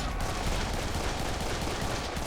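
Dense, continuous gunfire from the video game Serious Sam 3 BFE, a loud sustained barrage of rapid overlapping shots with no talking.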